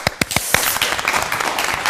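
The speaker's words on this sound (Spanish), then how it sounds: "Un aplauso para ti." An audience starts applauding a guest, Mónica González, on a Chilean broadcast, a few sharp separate claps at first quickly thickening into steady, close applause.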